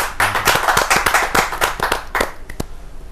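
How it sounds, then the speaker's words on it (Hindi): Audience at a Hindi poetry gathering clapping, with sharp individual claps from a small group, loose and uneven, close by, tapering to a few scattered claps at the end. "जोरदार तालियों के साथ"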